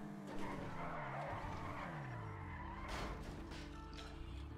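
A Kuruma car in GTA Online drives with a steady engine drone while its tires skid and squeal through a drawn-out slide, with a sharper scrape partway through.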